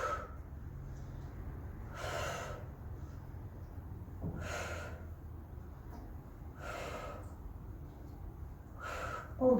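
Forceful exhalations during a no-equipment arm workout: four sharp, breathy puffs about every two and a half seconds, close and fairly loud over a low steady background hum.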